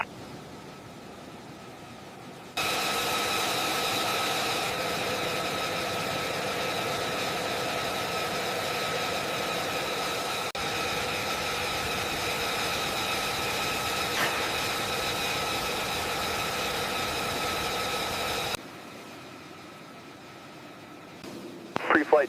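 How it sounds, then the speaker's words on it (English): F-35B Lightning II jet engine running up on the ground, a constant roaring hum with steady tonal whine that starts suddenly, holds evenly for about sixteen seconds, then cuts out to quieter background. "Ready for engine run up."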